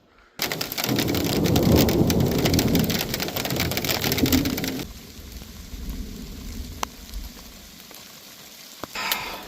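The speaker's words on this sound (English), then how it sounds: "listen to the rain" Rain drums loudly and densely on a teardrop camping trailer with a thunder rumble underneath, then eases to a softer steady patter with occasional sharp drops.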